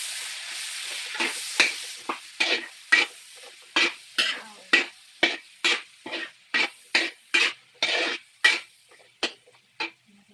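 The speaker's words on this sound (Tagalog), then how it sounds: "Ilagay natin ang sayote." Chayote stir-fried with pork cubes in a pan, heard as a close, rhythmic series of about a dozen sharp scraping and tossing strokes over a soft sizzle, with no talking.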